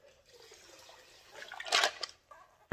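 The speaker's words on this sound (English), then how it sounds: "I'm going to actually dump a little water out." Water poured out of a 12 lb Lortone rock tumbler barrel, a soft running trickle that swells into a brief louder splash near the end, heard up close with no talking.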